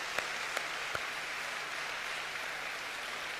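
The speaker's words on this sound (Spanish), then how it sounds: "si dan un aplauso grande al Señor" A church congregation applauds during a sermon, a steady, fairly soft wash of clapping that holds evenly for a few seconds with a few sharper claps near the start.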